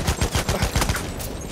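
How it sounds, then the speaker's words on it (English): Gunfire in Battlefield 1, with a series of sharp, loud shotgun-like blasts spaced fairly evenly at close range over a low rumble, then tapering into quieter battlefield noise. "You and your shotgun."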